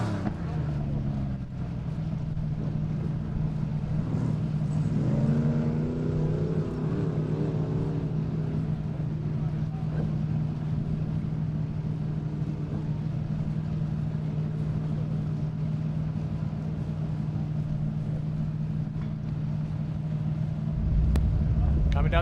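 Off-road race vehicle grinding over rocks during King of the Hammers qualifying, a steady droning engine roar that stays loud and continuous throughout, with a commentator talking over it.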